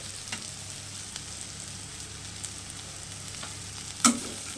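Potatoes frying in a pan with a little turmeric, a steady soft sizzle with faint scraping stirs at a moderate distance, ending in one sharp clink near the close.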